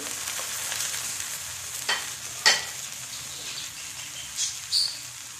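Two medium-sized onions frying in oil in a pan for fish biryani, giving a steady close sizzle with occasional sharp crackles and spoon scrapes over it.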